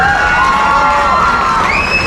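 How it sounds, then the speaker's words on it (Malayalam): A large crowd at Kannur Dasara cheers and shouts in a loud, continuous burst, with no gaps, close and filling the whole moment. "കയ്യടി."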